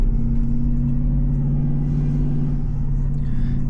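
A loud 5.7 Hemi V8 in a Jeep rumbles steadily from inside the cabin while driving, a deep, continuous throaty drone with slight rises in revs and no talking.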